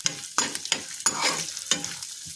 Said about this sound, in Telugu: ఇప్పుడు దీన్ని పోపు పెట్టేద్దాం.